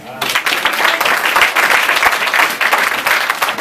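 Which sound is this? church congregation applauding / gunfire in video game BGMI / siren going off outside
church congregation applauding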